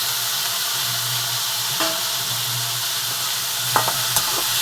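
Two tomatoes sizzle steadily in a hot pan for a Tamil tamarind curry, with a few scraping stirs of a utensil breaking through the constant frying hiss.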